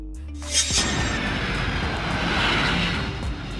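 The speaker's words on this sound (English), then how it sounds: "A cargo jet is used to transport cargo on long-distance or international flights." A cargo jet aircraft roars loudly and steadily, a broad sustained engine rush with no pauses that fills the whole stretch.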